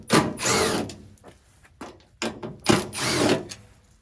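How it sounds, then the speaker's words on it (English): A power drill backs the screws out of a Ford Maverick tailgate, running in two loud, close whirring bursts of about a second each, with short clicks and handling knocks between them. "all we have to do here, according to the instructions, is remove these 8 screws that are in here"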